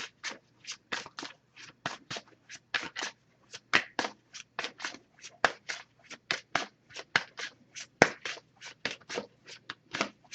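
A Messages of Love Oracle card deck being shuffled by hand: a close, steady run of quick papery riffling bursts in an even rhythm, continuing for the whole stretch with no talking.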